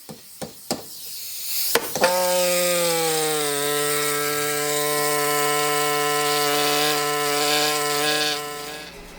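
An ME9100 air scribe chips rock off a fossil Eubiodectes fish: a few sharp taps, then a sustained, close, buzzing pneumatic whine with a steady pitch that runs to the end.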